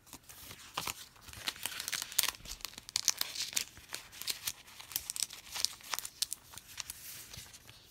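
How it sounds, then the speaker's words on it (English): Paper planner stickers, small fork-and-knife designs, being torn and crinkled up close, a steady run of quick rips and crackles without a pause. "These little planner Kate fork and knife stickers, which I'm tearing up."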